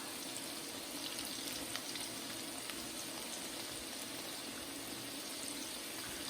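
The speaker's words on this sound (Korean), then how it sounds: "이렇게 바삭바삭하게 좀 더 튀겨보도록 하겠습니다" Continuous soft hiss and crackle of shiitake mushroom kkanpunggi deep-frying in hot oil for a second, crispier fry, steady and even throughout, with no talking.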